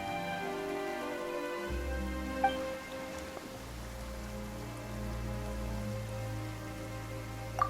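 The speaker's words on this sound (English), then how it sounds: "Why is it raining all of a sudden?" Steady rain pours down in the video game Genshin Impact, a soft even hiss of drops under a sustained musical drone, with a couple of faint brighter ticks scattered through.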